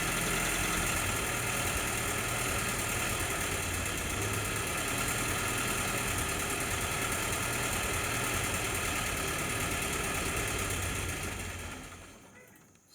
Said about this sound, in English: Runs pretty smooth and pretty good at that fast idle.